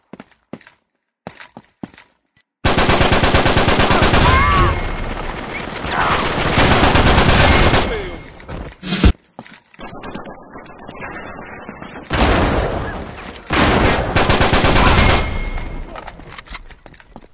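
Sustained automatic gunfire in the Uncharted 3 multiplayer game comes in long, loud, dense bursts, with a pause in the middle before more rapid volleys follow, plus a few single shots and thuds.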